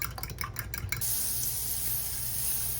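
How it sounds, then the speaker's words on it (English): Eggs whisked in a bowl for a sausage and potato breakfast burrito, with rapid rhythmic clinking of the whisk against the bowl for about a second before it gives way to a steady sizzling hiss from a nearby pan. "Whisk your eggs"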